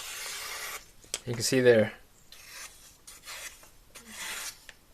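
A freshly hand-sharpened knife slices through magazine paper in a quick cut test, giving short, close rasping swipes, the loudest midway, followed by fainter scratchy strokes, with brief talk alongside.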